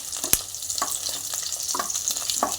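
Spices and a few cashews frying in butter and oil for a mushroom biryani, a steady close sizzle with sharp pops and spatters and a few scraping stirs, no voices.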